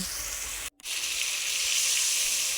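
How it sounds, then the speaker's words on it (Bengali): Spices sizzle steadily while being sautéed in a pan for a fish curry, a broad close hiss that cuts out briefly, then resumes just as loud. "ভালো করে কিন্তু কষিয়ে নিলাম"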